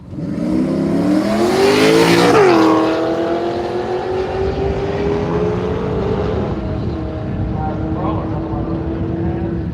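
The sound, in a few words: nitrous Holden Commodore drag racing run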